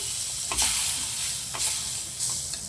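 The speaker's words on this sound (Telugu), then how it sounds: "ఈ విధంగా లైట్గా కలుపుకుంటూ ఉండాలి. మొత్తం అంతా కలిసే విధంగా కలపాలి." Beetroot juice is stirred into semolina roasting in a pan, producing a bright, hissing sizzle that swells with each of a few quick stirring strokes.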